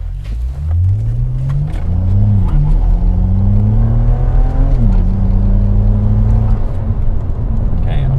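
A BMW E92 335i with the N54 engine accelerates hard from inside the cabin, its drone rising through gear changes, loud and steady, while people talk over it.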